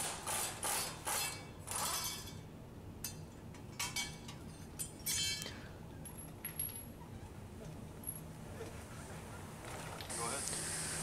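A ratchet works on the subframe-to-chassis bolts under a 2013 Ford Taurus during a water pump replacement, bursts of quick metallic clicking in the first half, then quieter scattered clinks and low background noise.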